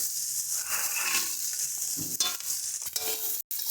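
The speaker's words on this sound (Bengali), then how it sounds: "এবার আমরা আগে থেকে ভেজে রাখা বড়িগুলোকে দিয়ে দেব" Pre-fried lentil dumplings (bori) are tipped into a sizzling pan of spiced vegetables, a steady close hiss of frying broken by scraping stirs and a brief clatter.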